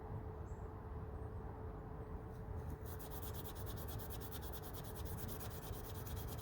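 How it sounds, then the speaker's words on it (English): Scotch-Brite pad buffing the brass and steel back springs of an Imperial Frontier stockman pocketknife, a steady continuous scrubbing rasp at close range with light pressure and no voices. "Little piece of Scotch-Brite here, just gonna buff up all the back springs"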